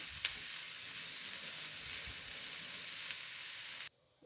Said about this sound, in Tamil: லைட்டாக கலக்கி விடலாம்